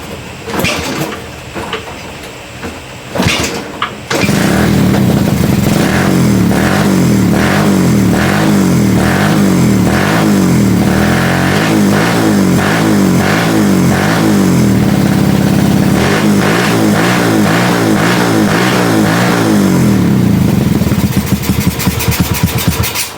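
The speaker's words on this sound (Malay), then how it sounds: "projek kita untuk pasang karburetor dekat motor ni bagi hidup telah menjadi" A motorcycle with a newly fitted carburetor, a Kriss, is cranked a few times, then catches and runs loudly up close, revving up and down repeatedly before settling to a rough idle.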